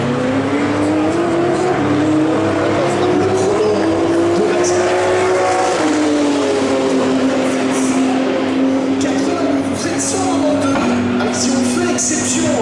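A Mercedes race car, number 9, drives through the chicane at Spa during the 24 Hours Superpole, its loud engine note dropping and rising as it brakes and accelerates, with commentary talk over it.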